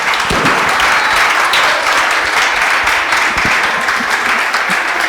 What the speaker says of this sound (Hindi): आप लोग की तालियां अपने आप में बता रही है कि क्या है